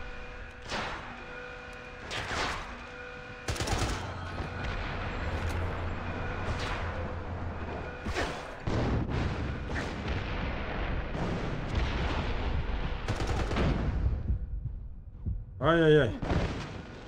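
Chaotic combat in the video game James Bond 007: Blood Stone: heavy booming blasts and bursts of gunfire roll on continuously, with a man's brief exclamation near the end.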